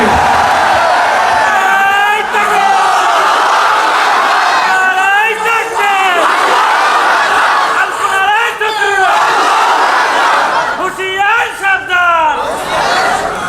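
A large crowd at a religious sermon gathering in Bangladesh chants the slogan Allahu Akbar. Four loud, roaring bursts of many voices rise and fall in a steady rhythm, with a crowd murmur between them.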